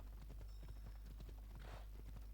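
Rapid, rhythmic hoofbeats of a horse being ridden in Assassin's Creed Odyssey clatter steadily at moderate distance over a constant low rumble of ambience.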